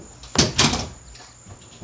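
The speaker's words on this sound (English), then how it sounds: "Let me close the door." A door being shut indoors, a couple of quick soft thumps and a brief rattle, close by with no talking.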